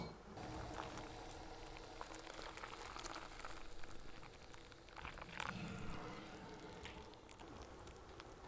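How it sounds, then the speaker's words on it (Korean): Hot water at about 91°C pours into a Clever coffee dripper, a steady trickling, splashing stream that runs close and continuous for several seconds with small clinks and spikes near the end, no voice over it. "자, 그럼 이제 클레버에 물 부어줄 거예요."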